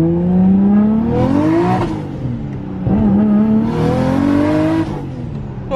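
Drift car accelerating hard through first and second gear, engine pitch climbing, dropping at the shift, then climbing again; loud, close and alone.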